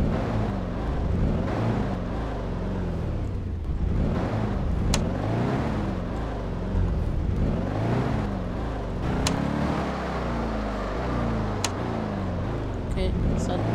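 A car drives through a Garry's Mod DarkRP game session, its engine droning steadily and rising and falling in pitch as it speeds up and slows, with talk over much of the run.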